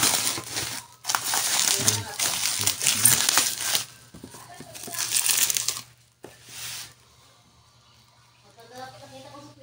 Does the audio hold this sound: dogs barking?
no